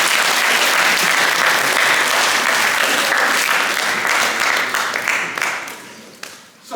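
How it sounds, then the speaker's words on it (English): Loud applause from a high school student audience during a school presentation, dense clapping that stays strong and then tapers off unevenly toward the end. "Round of applause for that person right"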